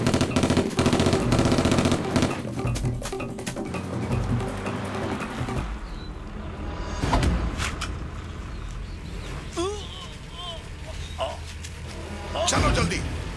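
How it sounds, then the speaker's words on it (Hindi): Bursts of rapid machine-gun fire in a South Indian action film, dense and loud at first, then thinning into scattered shots amid chaotic background noise and brief high squeals. "गोली मार रहा।"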